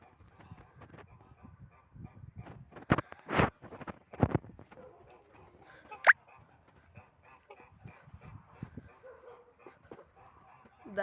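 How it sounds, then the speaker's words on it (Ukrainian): A few loud honks from geese burst out amid quiet farmyard background, with faint scattered noises between the calls. "От у мене гуси є."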